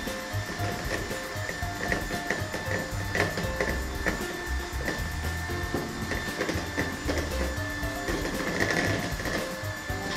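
Homemade mayonnaise of oil and egg yolk being mixed with a whirring motorized blender, a steady buzzing drone with rattling texture that runs loud and continuous for the whole stretch.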